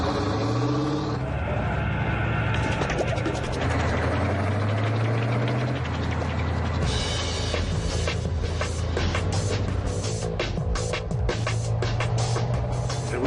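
A PzH 2000 self-propelled howitzer rumbles along, its engine a steady heavy drone with shifting mechanical whine and track clatter throughout, loud and close.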